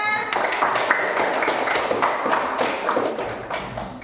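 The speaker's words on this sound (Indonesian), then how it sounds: "Tepuk tangan semuanya." Students in an Indonesian classroom applaud a group walking to the front, a dense, continuous patter of many hands clapping at close range with voices mixed in.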